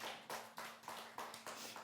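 Children at a church Sunday school give a few rhythmic rounds of clapping, seven sharp bursts in quick even succession, fairly close and with no talking.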